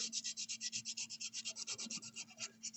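Wood being sanded by hand with sandpaper, a fast regular back-and-forth rasping scrub repeating steadily and close, with no talking.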